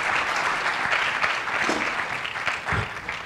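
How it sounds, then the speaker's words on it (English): A debate audience bursts into steady, dense applause welcoming the candidates at a Nassau County Executive debate, the clapping loud and continuous throughout with no voices on top. "I hope you applaud all three of them"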